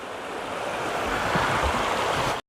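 Broad, steady rush of river water at a trail water source along the Appalachian Trail, a close, continuous wash that swells slightly before cutting off abruptly near the end.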